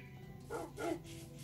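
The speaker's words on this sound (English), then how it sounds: "I hear some dogs barking." Two quick, faint barks from dogs in Minecraft sound in close succession, thin and distant over a low background hum.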